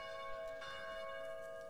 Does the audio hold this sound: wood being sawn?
no